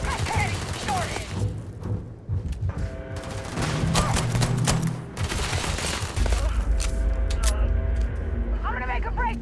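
Gunfire in the sci-fi game Starfield, with dense volleys of shots and rapid automatic fire running throughout under shouted voices and combat chatter.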